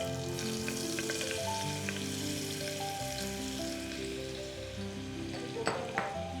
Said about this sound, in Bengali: এবার তেলটা গরম হয়ে এসেছে, আমরা এর মধ্যে দিয়ে দেব একটু বাটার